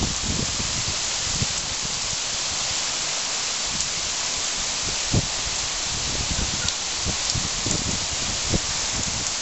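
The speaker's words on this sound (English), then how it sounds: "But this is a pretty incredible storm. The rain's warm and the temperature is very nice" Heavy warm rain pours down in Bora Bora, a dense continuous hiss with scattered louder drips and splashes, likely water running off a thatched roof nearby.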